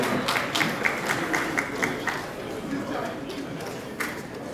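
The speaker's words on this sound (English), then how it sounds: "Ladies and gentlemen, please a round of applause for Mrs. Omotola Jalade Ekende." Audience applause rings out at a Nigerian entertainment conference as a speaker is welcomed: a sustained wash of clapping with voices heard over it.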